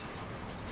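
A train arriving in the video game Workers and Resources, set in 1930s Poland: a steady, dense rumble of rolling wheels and rail clatter, fairly close and unbroken, with no voices.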